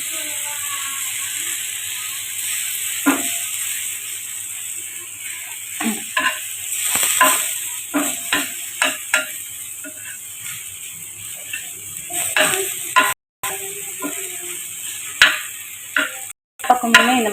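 Okra (lady finger) fries dark on a hot dosa griddle with a soft, ongoing sizzle. It is broken by irregular scraping and stirring clicks from a spatula, some sharp and close.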